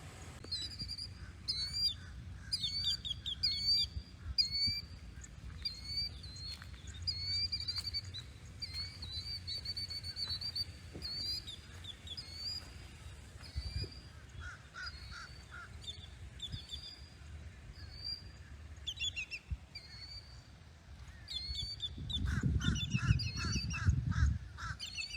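Many birds chirp and call outdoors beside a retention pond in a Florida residential village, bright overlapping songs throughout, with a low rumble like a passing vehicle swelling near the end.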